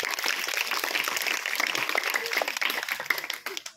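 Audience applause at a women's foundation materials-distribution event in Loladgaon village, a dense, steady burst of many hands clapping for nearly four seconds before tapering off at the end.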